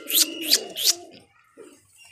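Pigeons give a few short, close coos over a low murmur while feeding on scattered millet grain swept to one side of a floor, then fall mostly quiet.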